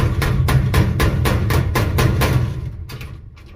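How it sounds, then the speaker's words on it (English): A HON file cabinet lock is hammered into place with a steady run of about ten sharp metallic blows in even rhythm, close and loud over a constant background hum, slowing near the end. "what I'm gonna do right now is I'm just gonna hammer it in there"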